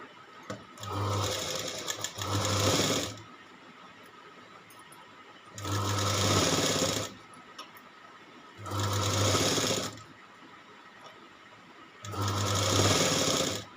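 Sewing machine stitching a blouse's back neck and katori pieces, running in four separate bursts of about one to one and a half seconds each, with short quiet pauses between them.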